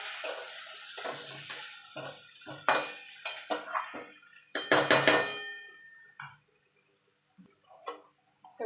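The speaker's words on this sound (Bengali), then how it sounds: "এবার ভালো করে সব মশলাগুলো মিশিয়ে নেব।" Spices being mixed in a cooking pan bring bursts of metallic scraping and clinking from a utensil against the metal pan, busy at first and then sparse with quiet gaps.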